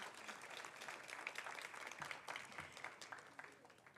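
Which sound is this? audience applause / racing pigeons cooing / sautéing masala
audience applause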